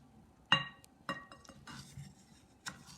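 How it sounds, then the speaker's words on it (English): A spoon stirs fruit salad in a bowl, giving a few sharp glassy clinks spaced irregularly over a few seconds, quiet and alone against a soft background. "we're going to use it to stir up our fruit salad and mix up all those pieces of fruit"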